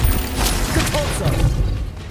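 Compulso spell casting in Hogwarts Legacy on PS5, a mechanical whirring and clanking magical effect that fades toward the end, fairly loud and mostly free of speech.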